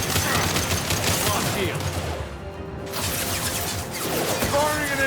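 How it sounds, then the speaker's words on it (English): An impact shot fired in the video game Mass Effect 2 sounds amid loud, dense combat, with heavy bursts of gunfire and crashes running almost continuously and a brief dip in the middle. "Firing an impact shot."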